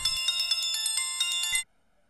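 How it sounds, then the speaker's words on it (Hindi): A mobile phone ringtone plays a bright, repeating electronic melody in a quiet room, then cuts off abruptly after about a second and a half. "It's your phone."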